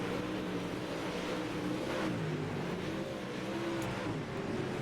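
Super late model race cars howl around the Limaland track with a steady, continuous engine roar and slowly shifting pitch as they pass, heard at a moderate distance without talk.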